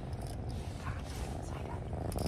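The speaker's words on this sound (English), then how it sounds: "He's purring up a storm." A cat purrs close by in a goat barn during kidding, a soft low rumbling drone running throughout at a quiet level.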